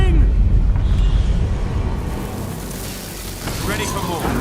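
An earthquake tremor in Guild Wars 2 rolls in as a deep, loud rumble that swells and slowly fades, with scattered crackling debris and a voice speaking over it.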